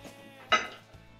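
A metal spoon knocks against dishes at an Indonesian home meal during winter in Ireland, giving one sharp close clink with a brief ringing tail, followed by a fainter small tap, with no talk in between.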